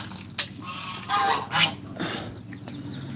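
Farmyard poultry calling out in the morning on what is set to be a hot day, a few honking, squawking calls with short breaks between them, fairly near, with no talk.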